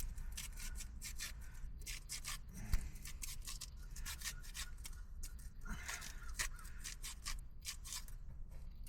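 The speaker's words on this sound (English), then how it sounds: "For the single onion, I'll just cut it in here." Knife slicing a single onion on a board in a cramped car cooking setup, a quiet, steady run of soft rasping, scraping cuts close by with no voices.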